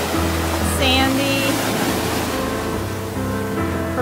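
Ocean surf rolls steadily at Nags Head Beach, a loud continuous wash of breaking waves close by with no break in the roar.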